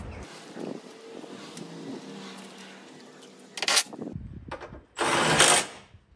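An impact wrench fires a few short, loud bursts while tightening a nut on a car. Two bursts stand out against a quieter mechanical background, the second one longer and stronger than the first.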